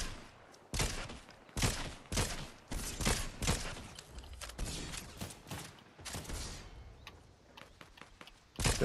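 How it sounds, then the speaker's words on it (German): Rapid bursts of gunfire in the video game Fortnite crackle in quick succession, loud and sharp, with brief pauses between volleys and no talking. "Schüsse in Richtung geradeaus."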